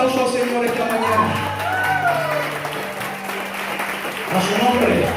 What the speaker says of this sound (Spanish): Den un aplauso al Señor esta mañana.